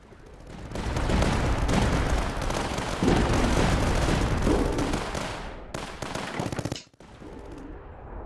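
Sniper towers open fire in the tower-defense game Tower Dominion, a dense, loud stretch of rapid overlapping gunshots and blasts that runs nearly continuously before cutting out abruptly and resuming more quietly.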